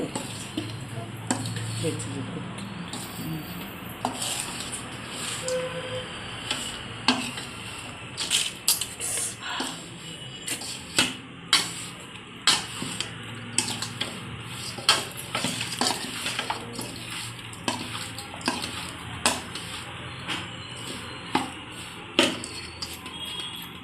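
Fasting laddu mixture being stirred in ghee in a pan, with repeated scraping and clinking strokes of a spoon against the pot, growing in rhythm over steady background hiss.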